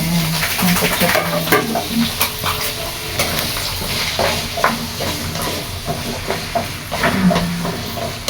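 Potatoes and carrots sauté in a pan, sizzling softly while a utensil stirs and scrapes them in irregular bursts of clatter.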